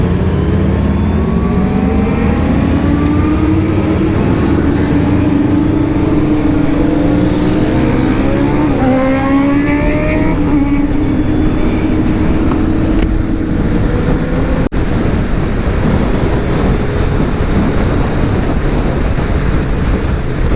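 Superbikes including a Suzuki Hayabusa and a Ducati Panigale ride past on a morning road, a steady engine drone with rising and falling whine under heavy wind buffeting, continuous and fairly loud throughout.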